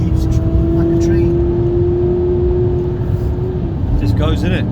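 Maserati Quattroporte engine pulling hard through the gears after a carbon clean, a loud steady drone with a sustained tone that shifts near the end, heard from inside the car.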